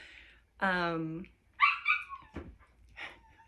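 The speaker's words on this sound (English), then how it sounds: "I don't know if you can hear the puppies, but we've got puppies." Puppies yelp and whimper in short bursts, with a longer whining cry early on, while someone talks nearby.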